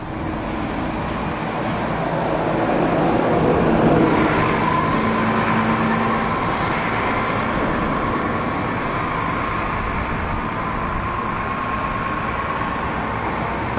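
An ALX400 London double-decker bus running along Hampstead Heath, a steady engine drone with road rumble that swells and then holds, heard alone without talk.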